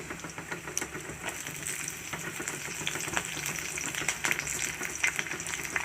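Green chilies frying in hot oil for kolu rasam, a steady close sizzle with small crackles and pops throughout, no voices.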